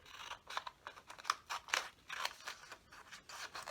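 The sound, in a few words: scissors cutting paper for a paper plane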